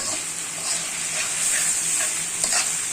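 Potatoes cooking in a pan for a Bangla bachelor-style recipe, giving a steady close sizzle and hiss with faint stirring scrapes throughout.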